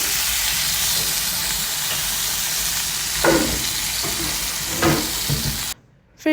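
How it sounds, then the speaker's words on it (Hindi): Chicken pieces frying in a pan, lightly seasoned with a couple of spice-mix masalas, give a steady broadband sizzle with a few louder stirring scrapes near the end before a brief cutoff. "साथ में हमारे चिकन भी फ्राई हो रहे थे।"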